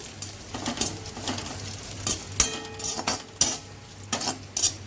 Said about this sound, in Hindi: अब उसी कढ़ाई के अंदर हम किशमिश को भी अच्छी तरह से फ्राई कर लेते हैं।